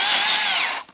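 A chainsaw makes the back cut while felling a tree. The high, close, loud whine holds steady for under a second, then cuts off abruptly and leaves near silence.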